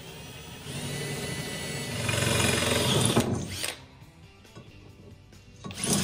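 A power drill bores a hole through PVC pipe for a T-handle, whirring loud and close and rising in pitch for about three seconds, then stops, leaving quiet handling noises and a short final burst.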